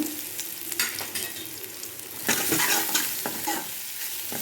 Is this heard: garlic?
yes